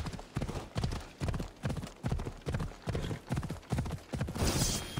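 Horse hooves clip-clopping as a mount is ridden in the video game Assassin's Creed Odyssey, a steady rhythmic gallop of repeated thuds, close and fairly loud, running throughout with no talk.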